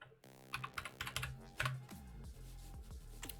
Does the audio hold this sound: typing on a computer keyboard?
yes